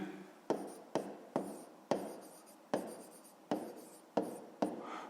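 Pen writing out a fifth-grade math exercise on paper, a series of sharp taps each followed by a brief scratchy stroke, repeating at a steady pace, close and quiet.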